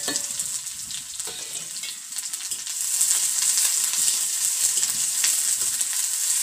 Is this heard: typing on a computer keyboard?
no